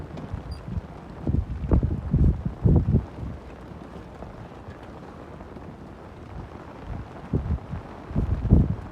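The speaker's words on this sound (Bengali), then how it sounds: "হাওয়া চালাইতেছে।" Wind blowing outdoors after rain, buffeting the microphone in low rumbling gusts that swell and fade over a quieter steady background.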